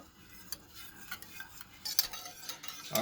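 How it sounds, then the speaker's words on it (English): Spoon scraping and clinking in a pot of buffalo sauce as butter melts into the hot sauce, with irregular light taps and soft scrapes that grow busier toward the end, close and fairly quiet. "Alright, so I'm just going to stir this for a few minutes."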